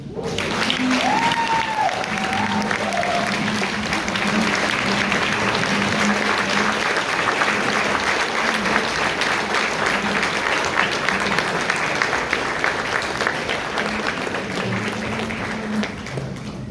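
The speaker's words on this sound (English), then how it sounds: "Nobody told y'all to stop clapping" Sustained applause fills a large hall at a Martin Luther King Jr. celebration held by the California Legislative Black Caucus, steady dense clapping from a big audience with faint voices calling out beneath it throughout.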